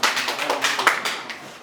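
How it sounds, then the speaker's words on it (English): A classroom of students clapping together for a classmate during a maths lesson, a brief dense burst of applause that fades within a couple of seconds. "Please clap for her."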